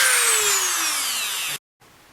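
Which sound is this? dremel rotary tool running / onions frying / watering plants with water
dremel rotary tool running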